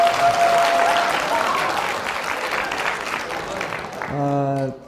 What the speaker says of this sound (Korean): 여러분 박수 한번 보내주십시오